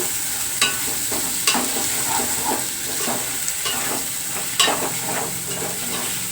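Prawns and drumsticks being stirred in a sizzling curry pan, with a steady frying hiss broken by several sharp scrapes of the spoon against the pan, close and clear with no talking.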